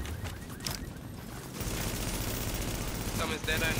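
Grenade blasts and gunfire from The Division, a dense rumbling burst of explosions and shots that swells louder after a quieter opening and keeps going under a voice talking.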